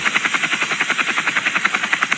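Helicopter close by, its rotor giving a loud, rapid, even thumping pulse that repeats steadily throughout the short stretch with no talk.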